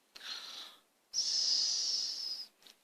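A voice imitates snoring with two drawn-out, breathy, wheezy snores, the second longer than the first. It is close and clear, with no other sound.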